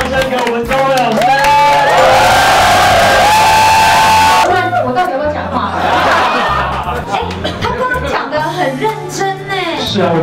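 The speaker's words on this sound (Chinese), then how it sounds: "再尖叫声给我们周老师。" A crowd at a gay bar in Taipei's Ximending screams, whoops and cheers loudly during a drunken karaoke contest night, a dense, continuous roar of excited voices close by.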